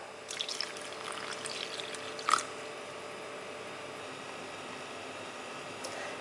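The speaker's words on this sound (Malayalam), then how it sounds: "ഇനി ഇതിലേക്ക് ആവശ്യത്തിന് വെള്ളം ചേർത്ത് നമുക്ക് ഒന്ന് പ്രഷർ കുക്ക് ചെയ്തെടുക്കാം" Water poured into pieces of beef in a pressure cooker for Kerala-style beef pickle: a soft, steady pouring hiss with one brief splash partway through, fairly quiet and with no voices.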